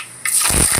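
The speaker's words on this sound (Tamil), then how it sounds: "எண்ணெய் ஊற்றி கடுகு போட்டுக்கிட்டேன்" Mustard seeds hit hot oil for a fish curry. After a short quiet moment, a sudden close burst of crackling, spattering sizzle sets in and keeps going to the end.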